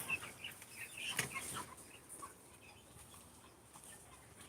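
Chickens in a backyard flock cluck and chatter faintly after heavy rain. A few sharper calls come near the start, then softer clucks continue over a quiet outdoor background.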